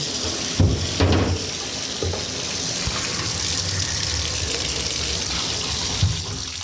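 Water pours steadily onto a Nitori stone bath mat, a loud, close, continuous splashing gush with a few sharper spatters near the start and end.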